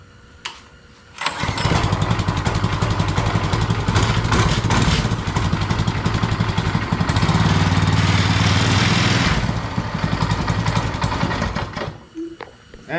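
Manco mini bike fitted with a Predator engine, started cold and low on fuel with choke on, kicks into a loud, steady small-engine putter that runs continuously for about ten seconds before cutting out near the end.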